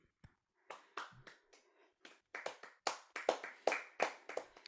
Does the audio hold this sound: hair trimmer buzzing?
no